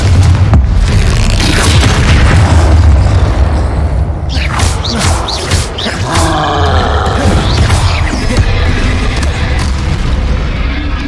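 A Confringo blasting spell explosion in Hogwarts Legacy, a deep booming blast with rumbling roar and crackling debris, loud and close, followed by further impact bursts and a short grunt.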